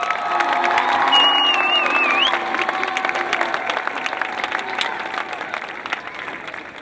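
An outdoor political rally crowd for Josh Mandel, Ohio state treasurer, applauds and cheers loudly and continuously, with whoops and shouts rising over the clapping before it gradually tapers off.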